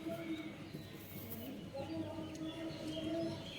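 Rajshahi pigeons cooing faintly amid a busy background, with a few soft repeated calls over a low steady din.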